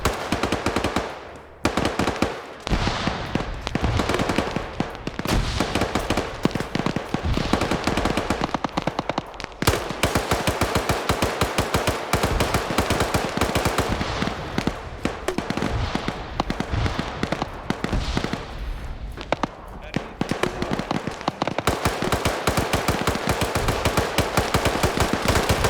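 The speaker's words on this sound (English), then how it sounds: "Just suppressive fire back and forth." Suppressive gunfire traded back and forth in a competitive video game match: dense, nearly continuous loud bursts of rapid shots overlapping for the whole stretch, with only a couple of brief lulls.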